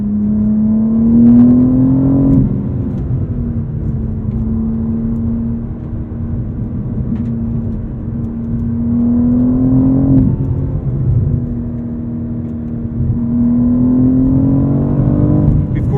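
BMW M4 CSL accelerating hard from the cabin, its engine note rising through each gear in three sweeping pulls, with brief dips at the shifts, loud and continuous.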